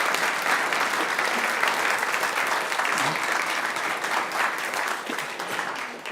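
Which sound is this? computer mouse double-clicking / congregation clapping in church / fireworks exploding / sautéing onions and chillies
congregation clapping in church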